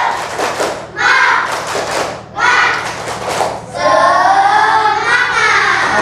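A classroom group claps the patterned spirit clap in two loud bursts of rapid hand claps, then children's voices call out together as the clapping ends.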